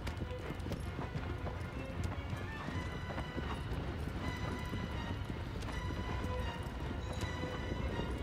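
Horse hooves clip-clop at a steady gallop through the game Shadow of the Colossus, a continuous rhythmic pounding with occasional whinnies over a dense game soundscape, with no talk.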